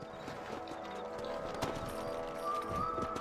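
Horse hooves clip-clopping at a steady trot over a continuous background, rhythmic and moderately close, in the video game Red Dead Redemption.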